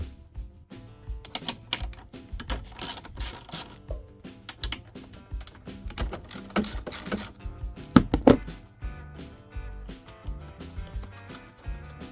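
A ratchet loosens the battery bracket nut on a Yamaha Kodiak 700 ATV, giving bursts of close, rapid clicking with metallic clanks and handling noise over about twelve seconds, with no talk.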